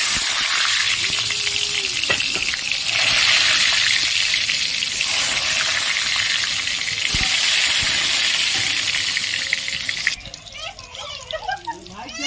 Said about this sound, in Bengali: দেখুন বন্ধুরা তেলটা গরম হয়ে গেছে, আমি বেগুনগুলো দিয়ে দিলাম।